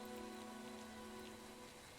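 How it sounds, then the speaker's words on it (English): Steady rain in the video game Pillars of Eternity II: Deadfire, a soft constant patter of drops on surfaces, quiet and even throughout with no voices. "Oh, it's dark and rainy."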